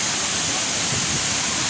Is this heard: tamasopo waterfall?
yes